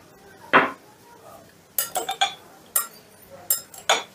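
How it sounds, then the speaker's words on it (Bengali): A spoon clinks against a bowl while sauce ingredients for chili fish are mixed, with sharp scattered taps in short bursts, close and fairly loud over a quiet background. "এবারে সমস্তটা আগে ভালো করে মিশিয়ে নিচ্ছি।"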